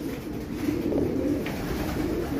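Racing pigeons coo softly and steadily nearby, a low murmuring burble that runs continuously through a quiet loft.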